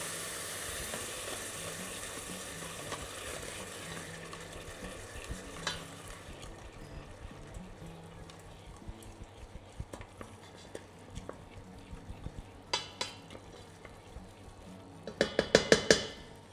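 Shrimp risotto is stirred in a pan as boiling water goes in a little at a time. A soft, continuous sizzle and scraping builds to a burst of sharp spoon clacks against the pan at the end.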